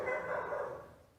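Dogs bark in a single drawn-out, fairly loud outburst nearby that fades toward the end, with no speech over it.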